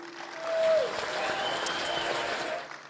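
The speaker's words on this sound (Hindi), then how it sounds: "जोरदार तालियां" An audience at a Hindustan Mail mahotsav event breaks into applause, a dense burst of many hands clapping that swells and then holds steady for a few seconds, with a faint background tone underneath.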